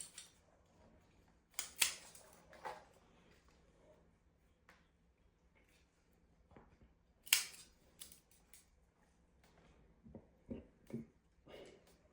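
Thick bonsai roots are cut back with pruning shears during repotting, giving several sharp, close snips spaced irregularly over quiet background, with a cluster of quicker cuts near the end.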